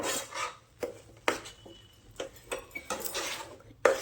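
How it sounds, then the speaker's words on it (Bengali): Semolina being stirred in a pan in a village kitchen: a few sharp metal clinks and scrapes of a spoon against the pan, fairly quiet and close, spaced irregularly. "পরিমাণে সুজি দিয়ে দিচ্ছি দিয়ে এইভাবে নাড়াচাড়া করতে থাকবো"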